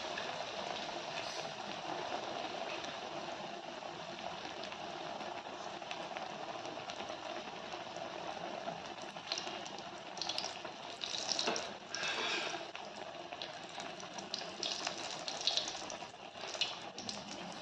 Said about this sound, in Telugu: మీడియంలో పెట్టుకొని డీప్ ఫ్రై చేసుకోవాలి